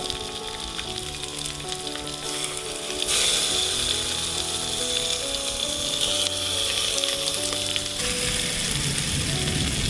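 Sardines laid side by side in a single layer in a cooker, coated in spiced gravy, crackle with a steady, moderately loud sizzle that brightens after a few seconds and holds throughout, with tonal background sound underneath.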